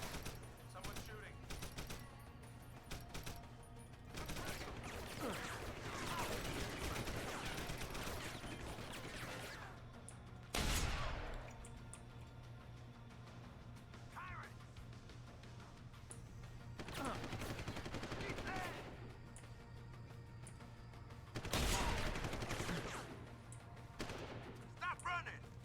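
Bursts of gunfire in the video game Cyberpunk, several sharp volleys and cracks spread across the scene, loud and close, with a steady low hum beneath and intermittent talk.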